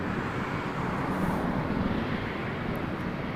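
A UPS MD-11 cargo jet rumbles at Toronto Pearson Airport, a steady broadband engine roar that stays constant with light wind noise and no talking.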